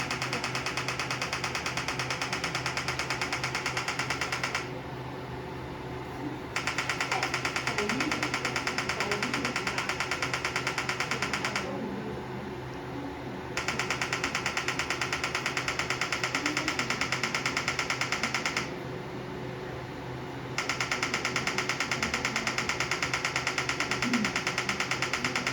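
EMS body sculpting machine running with its cooling system, a steady loud mechanical hum and whir that drops to a softer level three times for a couple of seconds before resuming.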